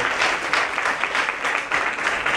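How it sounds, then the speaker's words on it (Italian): An audience applauds guests at a film festival event, dense continuous clapping close and loud throughout. "E l'applauso naturalmente anche per i nostri ospiti."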